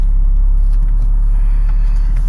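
The engine of a 2008 BMW E83 held in drive under brake torque makes a loud, steady, close low rumble with a deep hum that does not change for the whole span.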